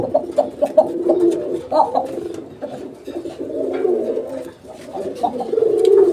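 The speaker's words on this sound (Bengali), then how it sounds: "তো নটটা দেখেন আপনারা, নটটার ডাকটা কিন্তু একদম স্পষ্ট।" A male pigeon coos in repeated soft, throaty bursts, close and fairly clear, with no talk over the calls.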